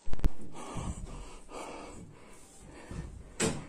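A frightened man breathing heavily on his way to a bathroom, with slow ragged inhales and exhales in a dark interior, plus a sharp knock at the start and a louder gasp near the end.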